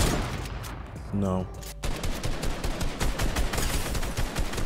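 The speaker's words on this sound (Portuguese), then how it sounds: "Vamos ver se a sniper do pai tá afiada." Gunfire crackles in a Fortnite match, where sniper and other weapon shots ring out as a rapid, close series of sharp cracks. A brief spoken word comes early on.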